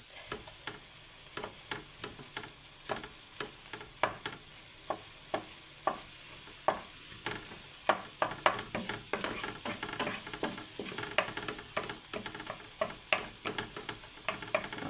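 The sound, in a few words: tomatoes frying in a pan for creamy salted milkfish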